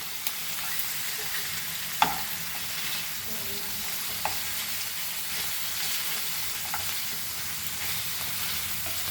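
Goan green mutton chops fry in a pan, giving a steady, even sizzle throughout with a few sharp clicks and taps from the pan along the way.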